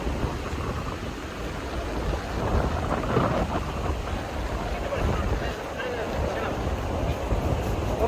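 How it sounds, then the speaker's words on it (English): Strong wind blowing outdoors high in the sky, a continuous heavy roar and buffeting rumble battering the microphone throughout, loud and unbroken, with voices faint beneath it. "Okay, so it's really windy. It is very windy"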